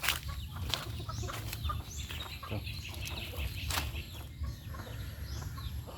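Chickens cluck near a farm coop in a rural Filipino yard, scattered bird calls and soft clucks over steady low background noise, with a brief spoken word.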